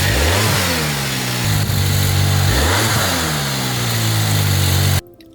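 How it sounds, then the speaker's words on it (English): A car engine fitted with a K&N air filter rumbles loudly, rising and falling through several revs with a low steady idle between, then cuts off abruptly near the end. "We're gonna start up the car now and see if there's any difference."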